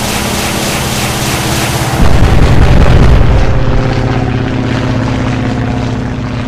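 A propeller aircraft in the Atlantic Fleet naval video game drones loudly in a dive, then a heavy burst around two seconds marks the rockets firing, followed by the engine roaring on.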